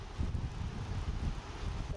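Wind at Lake Michigan on a rainy day buffets the microphone in low, gusty rumbles, fairly faint and continuous for the whole stretch.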